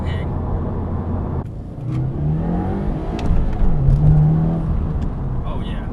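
A 2015 Subaru WRX engine with a Cobb Accessport Stage 1 tune hums steadily and then climbs in pitch as it revs up under acceleration, loud and close, with some voice sounds over it.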